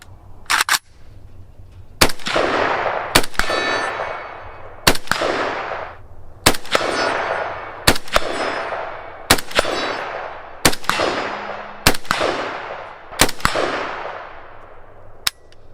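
An AK-47 rifle firing 7.62x39 ammunition outdoors: about ten loud, sharp single shots, each spaced a second or so apart with a long ringing echo trailing off.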